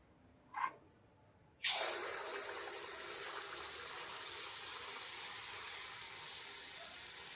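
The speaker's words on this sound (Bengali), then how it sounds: "এক এক করে আমি সব মালপোয়াগুলো ভেজে নেব।" Malpua dropped into hot oil and frying, a sudden loud broadband sizzle that starts after a brief tap and keeps hissing steadily, with small pops and crackles building toward the end.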